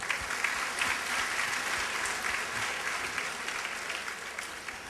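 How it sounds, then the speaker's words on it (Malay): A crowd at a New Year's Eve celebration claps continuously for several seconds, a dense, even patter of applause without talking. "Berikan tepuk tangan untuk mereka"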